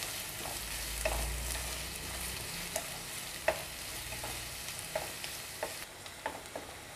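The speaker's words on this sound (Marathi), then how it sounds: "आणि आपल्याला कांदा लाल होईपर्यंत परतून घ्यायचा आहे." Chopped onion is stirred and sautéed in a pan, cooking until reddish-brown for chicken kheema, with a steady soft sizzle and scattered scraping clicks of the spoon against the pan; no one speaks.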